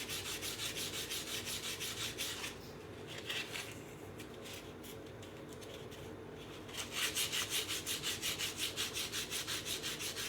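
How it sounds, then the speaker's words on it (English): Steady rhythmic rasping of a sanding block rubbed back and forth over wood, close and continuous, briefly easing off in the middle before picking up again. "Then I'll take this sanding block and just kind of go over it a little bit."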